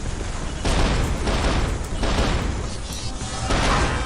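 Dual-wielded shotguns blasting in the first-person shooter game Area 51, a loud, dense barrage of overlapping booming shots in rapid succession with no pauses.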